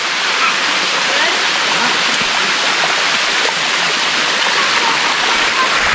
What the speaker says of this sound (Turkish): Şimdi bu şelaleyi tırmanacağım.